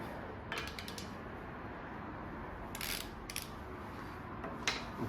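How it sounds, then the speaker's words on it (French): Ratcheting wrench clicks in short bursts as connecting rod cap bolts are loosened on a 8.4 L (511 ci) V8 engine, close and fairly quiet over a steady workshop hiss. "On va desserrer les chapeaux. Donc je vais retirer tous les chapeaux de bielle."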